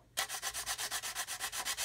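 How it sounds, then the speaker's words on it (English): Sanding stick rubbed back and forth across a plastic model kit surface to flatten it, giving a close, even series of about a dozen rhythmic scraping strokes with no talking. "So we're just going to sand it until it is flat."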